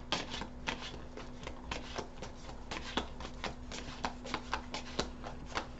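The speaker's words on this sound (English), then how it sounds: "I'll shuffle them." Tarot cards being shuffled by hand, a steady run of crisp riffling and slapping bursts close up, with a faint steady hum underneath and no talk.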